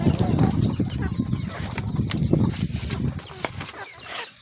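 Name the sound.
caged chickens clucking and flapping wings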